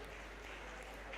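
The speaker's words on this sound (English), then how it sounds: "another round of applause" Steady, dense applause from a crowd, a continuous wash of clapping with no pauses, fairly soft and diffuse.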